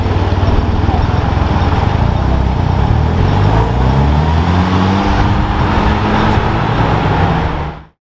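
A Honda S2000 drives past on a city street at night, its loud engine drone shifting in pitch as it goes by before cutting off abruptly.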